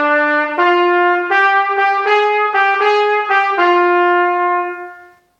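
Solo trumpet plays a short blues phrase in the demo for Blues Adventure, every note tongued separately with no slur: about nine clear notes in an uneven swing rhythm, close and loud, the last note held and fading out.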